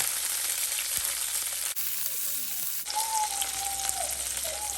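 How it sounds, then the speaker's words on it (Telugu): Cut green chillies fry in a pan with a steady, close broadband sizzle and crackle, broken briefly by a quieter gap midway before the hiss resumes. "ఇప్పుడు పచ్చిమిరపకాయలు ఫ్రై చేసుకోవాలి"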